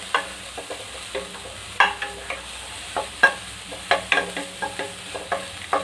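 Garlic and onion are sautéed in a pan for vegetable soup, with a soft background sizzle and irregular sharp scrapes and taps of a spatula stirring close by.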